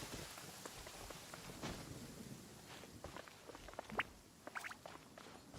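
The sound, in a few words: rain and thunderstorm in a video game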